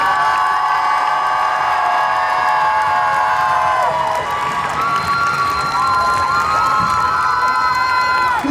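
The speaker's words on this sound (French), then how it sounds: "Je vous demande de les applaudir bien fort," Crowd at the Coupe de France de Cosplay 2023 final, Japan Tours Festival, loud continuous cheering and shouting with whoops and some clapping over a sustained tonal music bed throughout.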